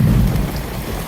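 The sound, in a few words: heavy rain starting to pour in Texas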